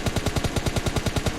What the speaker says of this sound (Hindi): हम भाई गोली चला रहे थे